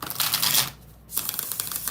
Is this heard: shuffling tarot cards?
yes